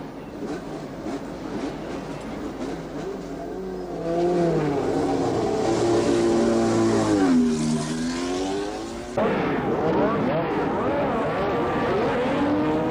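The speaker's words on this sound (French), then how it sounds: "Au départ, s'il n'y a pas de problème pour Peterson et Lauda qui s'élancent depuis la première ligne" 1974 Formula 1 cars launch off the line at the Dijon-Prenois circuit, engines rising together into a loud, sustained climbing wail of revs, with a sharp burst of fresh engine noise late on.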